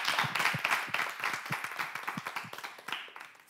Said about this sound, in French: elles plutôt vous disent bonsoir en applaudissant